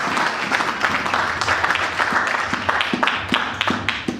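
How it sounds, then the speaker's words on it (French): A church congregation applauding, dense steady clapping from many hands filling the room, with a few sharper individual claps standing out near the end. "On acclame très fort la parole de Dieu."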